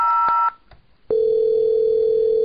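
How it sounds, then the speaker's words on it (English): Electronic telephone tones from a Cisco IP phone being called: a short two-tone burst, a brief gap, then a steady unbroken tone that holds to the end, clear and fairly loud with no talk. "the phone at HQ is still ringing"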